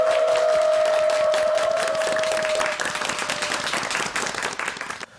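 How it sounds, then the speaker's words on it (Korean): Loud, dense applause from a large television studio audience, steady for a few seconds and then gradually thinning out. "큰 박수 부탁드리겠습니다."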